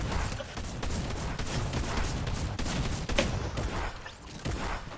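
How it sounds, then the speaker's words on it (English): Drum shotgun in a video game firing rapidly, a dense rattle of repeated shots in a continuous burst at moderate level, no voice over it. "Now I know why it's called the drum shotgun. It's a spamming shotgun."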